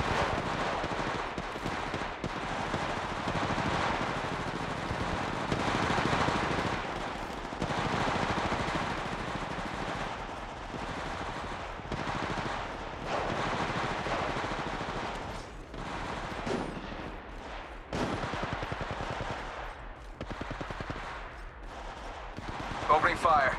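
Gunfire in the mobile game Apex Legends Mobile: nearly continuous rapid automatic shots and bursts at moderate volume, with brief pauses between volleys.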